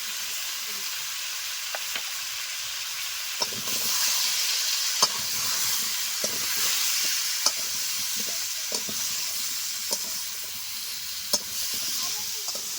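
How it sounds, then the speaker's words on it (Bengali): Cumin, coriander and dried chilli fry in a pan with a steady, soft sizzle and hiss, broken by occasional sharp clicks of a spoon stirring against the pan, fairly close and without talk. "মশলা দেওয়ার পর তিন চার মিনিট আমি নেড়ে নিয়েছি"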